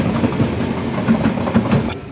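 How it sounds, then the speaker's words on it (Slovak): A train rolls past a flat above a parking lot and shopping centre, loud and close, with rhythmic clickety-clack of wheels over rail joints and a steady rumbling roar throughout. "Ide vlak rovno, takže môžeme počuť,"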